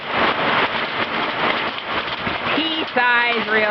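Heavy rain with pea-sized hail falling during a storm in Mapleton, Iowa, a dense loud hiss and patter close by, with a voice speaking briefly near the end.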